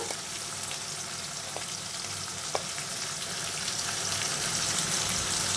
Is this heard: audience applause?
no